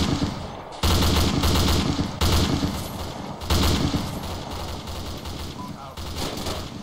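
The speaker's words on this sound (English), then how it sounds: "What are you firing at?" Heavy, sustained automatic gunfire rattles in repeated loud bursts during a military mission in a video game, dense and close with only brief gaps between volleys.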